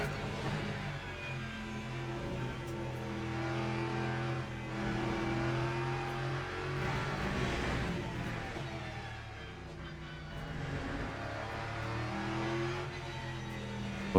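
A GT3 race car engine in a sim racing game is revved high for a long stretch, a continuous loud droning whine that rises and falls slightly with gear changes, with no talking over it.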